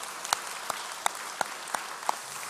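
A church congregation claps during a Sunday worship service, with about six sharp, evenly spaced claps standing out over a thin background of softer clapping.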